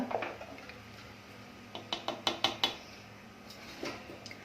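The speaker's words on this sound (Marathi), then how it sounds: "आणि आता मी झाकण ठेवून देणार आहे" Metal lid set on a pot of simmering octopus curry, with a cluster of light clinks and taps, faint and close, in an otherwise quiet kitchen.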